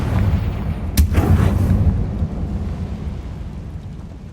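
A Confringo fire spell in the Hogwarts Legacy video game booms out as a sudden heavy explosion with a sharp crack, followed by a long low rumbling roar that slowly fades.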